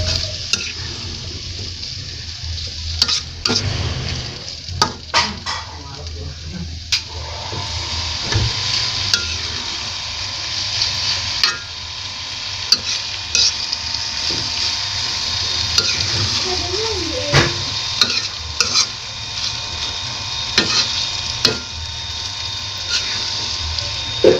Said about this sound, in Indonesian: Tumis.